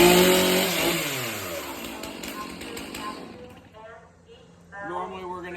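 A chainsaw on full choke, set on the ground for a morning check, fires and revs loudly at first, then settles and fades before surging again, with people talking nearby.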